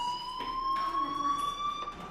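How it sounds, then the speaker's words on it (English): A fire alarm rings in the video game Life Is Strange, a steady, piercing electronic tone that holds without a break and sits loud and close over faint background noise. "do you hear that fire alarm? That means you should be outside."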